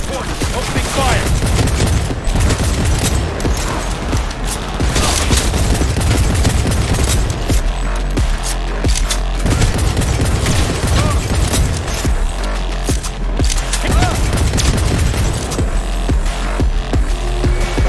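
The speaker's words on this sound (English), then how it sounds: "Opening fire!" Dense, sustained gunfire from a Cyberpunk 2077 firefight, loud and nearly continuous with bursts and booms layered over a busy game soundscape, no clear talk.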